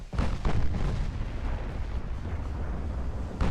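Battleship main guns fire armor-piercing shells in the naval game Ultimate Admiral Dreadnoughts during a German 1940 super battleship engagement, producing loud, deep booming blasts that roll into one another and sustain a heavy rumble.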